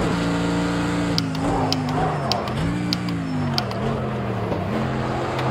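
A Mercedes AMG GT3 race car in a racing simulator holds a loud, sustained engine drone whose pitch dips and climbs through corners, with sharp gearshift clicks punctuating it steadily.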